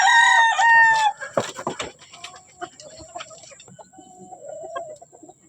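A rooster crows loudly and close by, followed by scattered clucks and calls from chickens kept alongside pigeons. Brief squawks and softer murmuring clucks trail off afterward.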